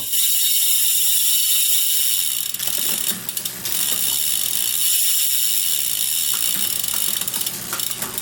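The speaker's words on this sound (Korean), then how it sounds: "멋지지 않습니까? 라체 소리." Rapid mechanical clicking of a freewheeling Buddy R bicycle hub, steady and close, with a brief slowdown midway before the ratchet whirs on.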